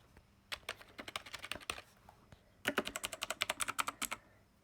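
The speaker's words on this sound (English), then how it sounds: "I'm typing out Minecraft." Typing on a Razer BlackWidow gaming keyboard, a fast run of crisp, close key clicks in two bursts separated by a short pause, heard alone with no talking.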